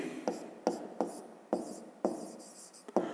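Pen or marker strokes on paper or a board as a math formula is written out by hand, a series of short scratchy strokes in uneven rhythm, close and fairly quiet with no voice.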